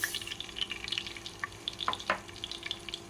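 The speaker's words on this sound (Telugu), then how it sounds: "నూనె వేస్తాను దాంట్లోకి కొబ్బరి దాంట్లోకి ఆవాలు మెంతులు వేసుకుంటున్నాను" Mustard and fenugreek seeds fry in hot oil with coconut, a faint close crackling sizzle with scattered little pops over a soft background hiss.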